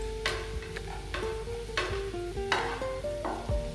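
Garlic, salt, green chillies and curry leaves frying in a pan, a steady sizzle broken by several distinct scrapes and clinks of a spoon stirring, close and alone.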